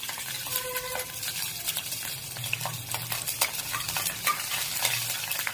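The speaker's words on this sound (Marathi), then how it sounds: "आपलं तेल तापलेलं आहे आपण ग्रेव्ही करत आहोत ते मिरच्या टाकून घेते पहिल्यांदा" Green chillies fry in hot oil for a gravy, a steady close sizzle with scraping stirring strokes running through the whole stretch and no voices.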